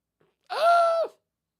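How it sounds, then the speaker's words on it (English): A single short yawn, a brief drawn-out voiced groan that rises and then trails off, heard close in a quiet room. "That was a yawn."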